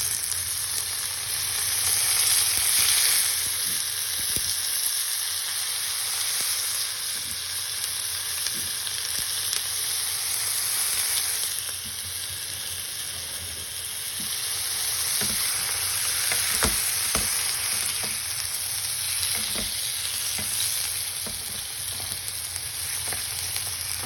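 Beef for afritada fries in a hot pan with a continuous loud sizzle and crackle, rising and easing slightly over time, with occasional light stirring taps and no talking.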